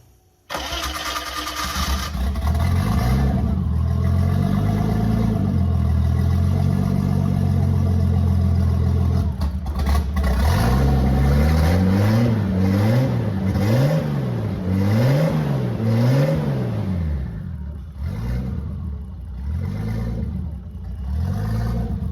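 A BMW E30 325 turbo with an open downpipe cranks, catches and settles into a loud, raw idle, followed by a series of sharp rhythmic revs and a rough, lumpy idle close by.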